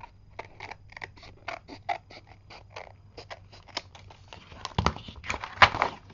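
Scissors cutting paper card for a handmade envelope, a close run of quick crisp snips and slicing strokes in an uneven rhythm, growing louder and rougher toward the end, with no talking.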